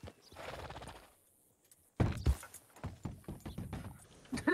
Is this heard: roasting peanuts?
no